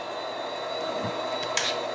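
A train pulls out during local switching operations in Huntington Beach, giving a steady, moderately loud rolling rumble with a faint metallic clank and a brief wheel squeal near the end.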